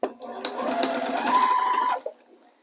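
A sewing machine stitches quilt binding a quarter inch from the folded edge, running in one steady burst of close, fast stitching for about two seconds before stopping, with a brief voice at the start.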